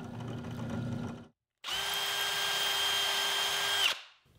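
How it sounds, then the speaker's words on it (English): A power drill whirs in two bursts while pre-drilling holes in wood, a short one then a longer steady run of high whine, close and loud, ending abruptly. "I'll countersink holes for the screws at 1/4 inch and pre-drill the holes at 3/32."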